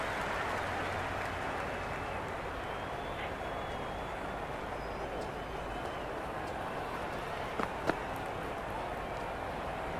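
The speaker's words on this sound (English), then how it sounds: "Will you listen to that crowd? They are loving this." A large crowd at a T20 cricket match at Harare Sports Club roars in a sustained, distant wash of cheering and murmur, steady throughout with a few faint whistles.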